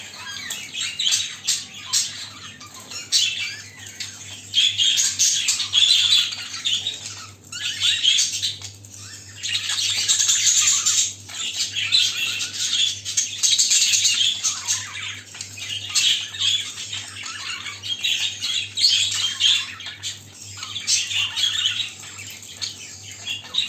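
Show birds paired together for courtship squawk and chirp continuously at close range, a dense, busy chatter of calls with frequent bursts and no pauses.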